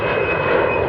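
Steady airplane engine drone in an animated object-show scene, a loud continuous roar with no talk.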